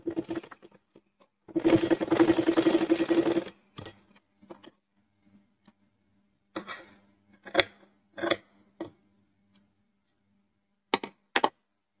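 A sewing machine stitches elastic onto a baby frock in one close, steady whirring run of about two seconds, followed by scattered light clicks and handling sounds with quiet gaps between them.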